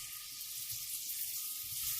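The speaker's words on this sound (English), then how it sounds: "Oh, listen to that sizzle." Butter and small scallops sear in a hot cast iron pan, giving a steady, close hiss of sizzling that holds evenly throughout with no talking.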